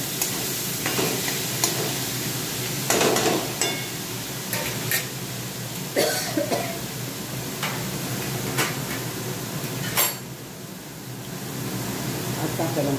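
Food frying in a pan is stirred with a steady sizzle and scattered scraping clacks of the spoon against the metal, a continuous close kitchen sound with some faint background voices.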